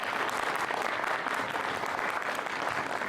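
A panel discussion audience applauds steadily for the panel, a dense and continuous wash of many hands clapping for about three seconds, with no voices cutting through.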